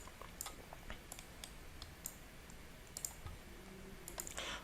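Faint, sparse clicks of calculator buttons being pressed one after another at an uneven pace in a quiet room, with no talk.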